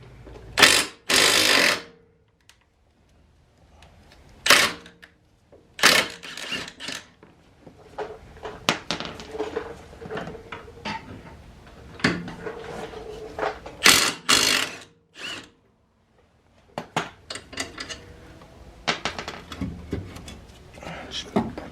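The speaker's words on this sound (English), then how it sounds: "I got my impact with the 21 mil. Take this bracket off." An impact wrench with a 21 mm socket removes the brake caliper bracket on a 2007-2013 Mercedes S550. Loud, close bursts of hammering whir are separated by quieter handling noises and clanks.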